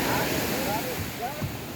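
Rough, swollen sea surging during bad weather when fishermen cannot go out, a continuous broadband wash of water and wind noise up close, with someone talking over it.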